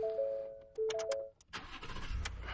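A 2019 Ford F-150 pickup cranks with a couple of brief starter whirs, then catches and settles into a low engine rumble, close and fairly quiet.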